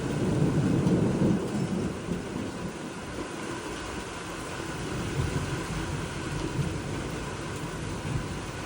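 An Arizona thunderstorm, with steady rain pouring and deep thunder rumbling loudest at the start, then a continuous wash of rainfall and low rolling rumble.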